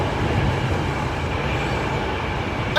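Intercity 225 train between Peterborough and London, heard from inside as a steady, loud rumble of wheels on rails with a constant roar, no pauses or voices.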